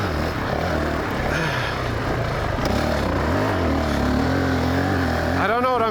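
A 2019 Honda CRF450X dirt bike is ridden through sand whoops, its engine droning close and continuously with rising and falling revs, while a rider talks over it.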